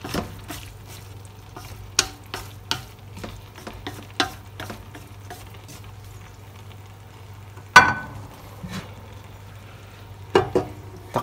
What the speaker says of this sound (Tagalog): Paglagay po ng repolyo, haluin po natin ng bahagya.